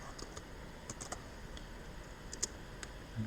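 Quiet, scattered keystrokes on a computer keyboard as a Linux terminal command is typed, a few irregular clicks spaced through the stretch with no talk.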